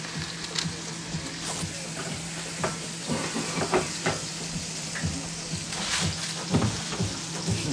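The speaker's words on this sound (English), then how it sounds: "Right now, we're gonna add our patties." Beef patties frying in a hot pan, a steady close sizzle with scattered pops and crackles throughout, no voices.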